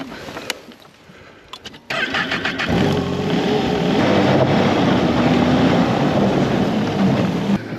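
A vehicle engine cranks and catches at a remote off-grid Alaska cabin, quiet clicks and rattles first, then the motor firing up and settling into a steady running drone, fairly close, with no talking.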